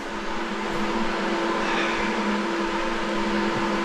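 Electric fan left running to dry a floor during a tile-over-tile job, giving a steady whirring hum with a faint tonal drone, constant and unchanging throughout, with no voices.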